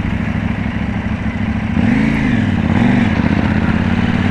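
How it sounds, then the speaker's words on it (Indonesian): KTM Duke 790 two-cylinder 790cc motorcycle being ridden, its engine droning steadily close by and then revving up and down in two quick swells over wind noise. "Motor 790cc, 2 silinder ya udah pasti gila lah."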